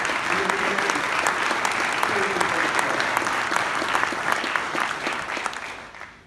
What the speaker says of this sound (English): I'd like to give him a round of applause his commitment